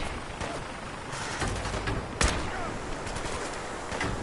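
Gunfire in Fallout 4 crackles through a dense, noisy game battle, with a sharp louder shot standing out midway among ongoing bursts of shooting and background rumble.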